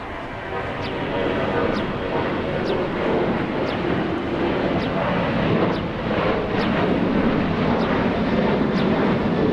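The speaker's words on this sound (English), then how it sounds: "the departure that we're zooming into now, Alaska 1083 flying to Seattle, Washington" An Alaska Airlines Boeing 737-900 departs, a loud sustained jet engine roar with broad rushing noise holding steady throughout, heard from an airport vantage without talk.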